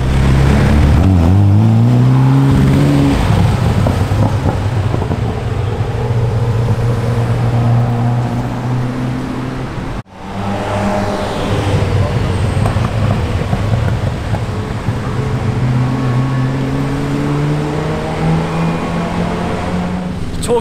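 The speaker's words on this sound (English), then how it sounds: "We just spotted a Ferrari F40." A Ferrari F40 supercar drives past on the streets of Monaco, engine revving and rising in pitch at close range, then fading into traffic noise before another rising engine note sweeps by.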